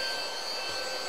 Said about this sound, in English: This is to start the vacuum cleaner.